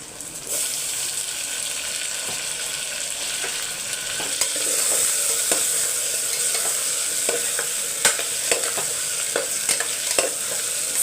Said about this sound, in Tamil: கொஞ்சம் இஞ்சி பூண்டு விழுது சேர்த்தா தான் நல்லது ஒரு அஞ்சு நிமிஷம் வதங்கட்டும்